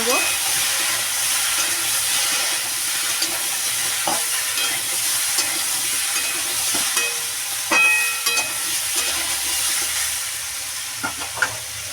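Rohu fish pieces with turmeric sizzle steadily in a pan while a utensil stirs them, scraping and clinking at irregular moments over a constant close frying hiss.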